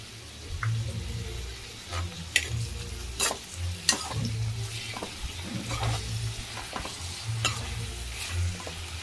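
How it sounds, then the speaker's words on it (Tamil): Ginger-garlic paste sautéing with onions in a pan for chicken gravy, a continuous close sizzle with a low bubbling hum and repeated scraping strokes of a spoon stirring, no voices. "இஞ்சி பூண்டு நூறு கிராம் அதை போட்டும் நல்லா வதக்கிக்கோங்க"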